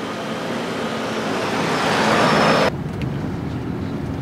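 A Toyota Alphard Executive Lounge driving on the road: a steady, loud roar of road and engine noise that rises slightly, then drops abruptly to a quieter hum partway through.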